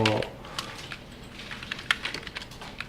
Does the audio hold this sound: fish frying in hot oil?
no